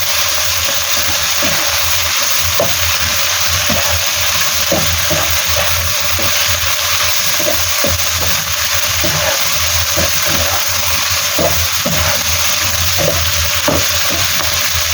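Pork with chives stir-fries loudly in a pan, a dense continuous sizzle with frequent sharp scraping and tapping of the spatula, close up and steady throughout, with no talking.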